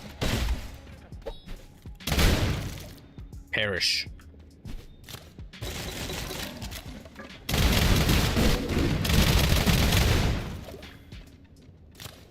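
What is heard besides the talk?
exploding shotgun firing in SULFUR video game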